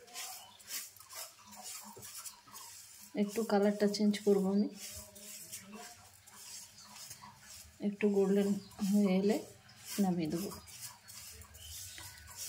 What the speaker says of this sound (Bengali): এইভাবে উল্টে পাল্টে আমি মুগ ডালটা ভেজে নিচ্ছি